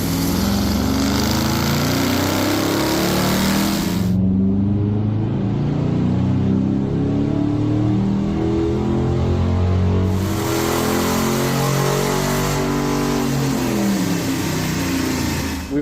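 A 5.7 Hemi engine in a car runs loud and steady during a gasoline versus liquefied petroleum gas power test, a deep continuous roar that swells and eases between long sustained pulls, with no talking.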